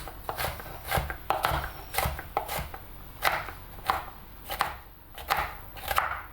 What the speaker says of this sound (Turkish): Salatalıkları elmalardan bir tık ufak olarak doğruyoruz.